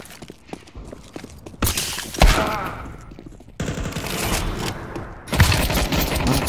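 Rapid bursts of automatic gunfire from a Counter-Strike 2 deathmatch on Vertigo or Mirage, loud sharp volleys alternating with quieter stretches of footsteps, no talk heard.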